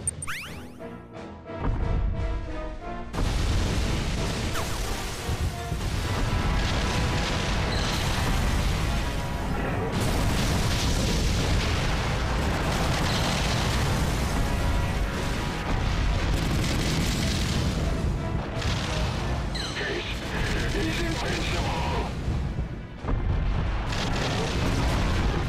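Military guns pound away in the Godzilla PS4 game, a dense, continuous roar of booming blasts and crashing impacts lasting throughout, loud and close with no letup.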